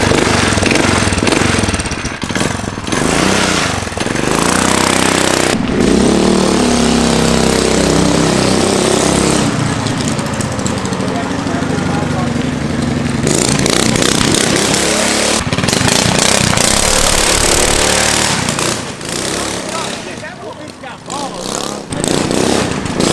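A small, loud trike engine revs and roars continuously up close, rising and falling in pitch with raspy rattling, while a voice talks over it.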